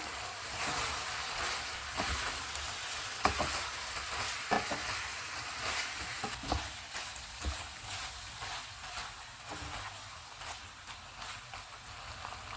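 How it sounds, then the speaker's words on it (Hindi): Keema pasta with dried oregano and parsley being stirred and cooked in a pan, a steady sizzle and fry with scattered scraping spoon strokes throughout, close and fairly loud, no voices. "इनको मिक्स करेंगे और 2 मिनट तक पकाएंगे।"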